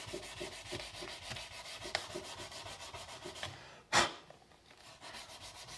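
Wood being hand-sanded with 400 grit sandpaper, a quiet, rhythmic back-and-forth rubbing in even strokes, close and alone, with one sharper scrape near the end.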